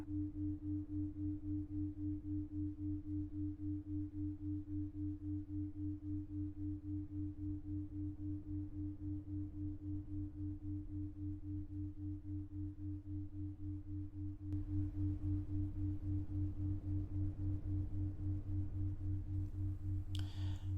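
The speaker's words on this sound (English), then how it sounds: "See if you can notice the subtle changes as the tones cross over each other." Layered sine tones hum steadily together, a low pair beneath a higher pure tone, slowly shifting as they cross over one another, with a slight swell in loudness partway through and no voices.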